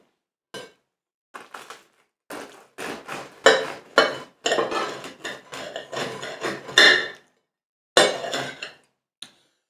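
A bread knife saws through bread rolls in short bursts of crisp crusty cutting and crackling, with a few knocks on the board and pauses between strokes.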